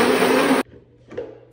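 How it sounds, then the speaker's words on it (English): Electric grinder whirring loudly as it grinds dosa-style batter for a healthy weight-loss recipe, a steady motor roar for about half a second that then cuts off abruptly, leaving faint room noise. "And then we are just going to grind it"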